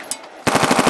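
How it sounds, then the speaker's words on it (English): An M249 SAW machine gun fires a loud, rapid burst at pop-up targets on a range, the rhythmic string of close shots starting abruptly after a quieter moment. "Shoot a little bit higher this time."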